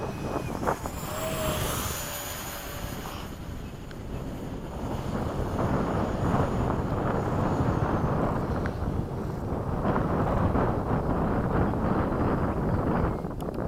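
A Hobby King 70mm Sky Sword RC ducted-fan jet on a 6S battery flies past at an airfield, a steady rushing whine that swells and fades under heavy wind buffeting on the microphone.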